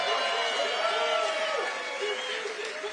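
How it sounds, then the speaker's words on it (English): Crowd at a political rally cheering and shouting in a steady, dense wash of voices for about three seconds, with scattered whoops and some tones that could pass for boos, dropping off sharply at the end. "They need to work on their cheering."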